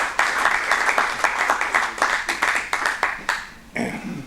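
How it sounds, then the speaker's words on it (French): A small audience at a French political party gathering claps in distinct, rhythmic bursts, fairly close, with individual hand claps audible before it tapers and a brief murmur at the end. "Je pense qu'on peut l'applaudir"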